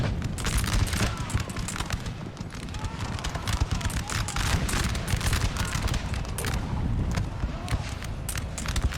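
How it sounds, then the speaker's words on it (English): Artillery and gunfire in a Napoleon: Total War battle, a dense, continuous crackle of shots over a heavy low rumble, loud and unbroken for the whole stretch. "Still being shot by Denmark artillery."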